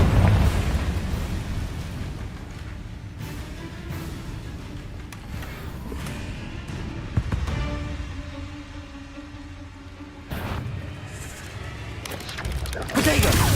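Repeated Confringo fire-spell blasts in the Hogwarts Legacy video game, bursting in sharp booming bursts amid game effects and a player's spoken voice throughout, with louder hits near the start and end.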